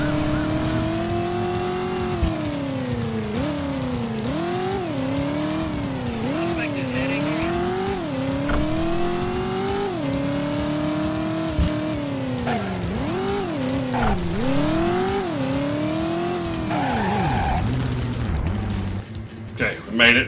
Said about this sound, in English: We almost wrecked our car, but we did it.